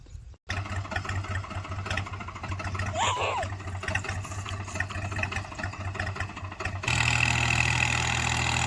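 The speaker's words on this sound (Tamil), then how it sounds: "இப்போது நம்ம வந்து ரொட்டேட்டர் வச்சு ஓட்ட ஆரம்பிச்சாச்சுங்க" A tractor engine runs steadily with a rotavator attached, a loud, continuous diesel drone with a low hum that rises in level near the end, while ploughing a farm field.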